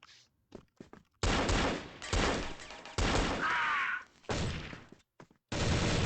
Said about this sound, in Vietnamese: Tại sao mình bắn AK đi?